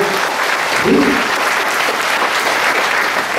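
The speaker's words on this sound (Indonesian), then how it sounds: "Tepuk tangan Ekayana." An audience claps steadily throughout at a Buddhist dharma talk at Wihara Ekayana Arama, the applause broad and sustained with a slight swell near the start, and no voice is heard over it.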